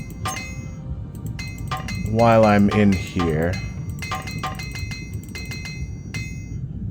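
Armor hammers repairing armor in Morrowind: a quick run of sharp metallic clinks and taps, close and fairly loud, with someone talking over part of it.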